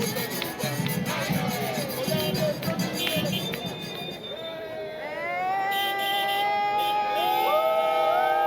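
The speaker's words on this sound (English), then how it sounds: "So the folks are cheering" Festive crowd at a New Year parade in Aruba, cheering and shouting in a dense, continuous wash, with sustained whistle-like tones and horn notes rising through the second half.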